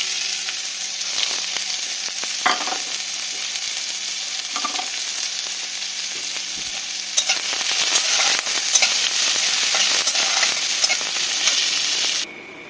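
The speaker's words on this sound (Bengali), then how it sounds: "এখানে আমার পেঁয়াজটা ভাজা হয়ে গেছে।" Chopped onions fry in a pan with a steady, close hiss of sizzling oil, broken by occasional stirring scrapes and clicks; the sizzle grows louder partway through and then drops off abruptly near the end, and no one talks.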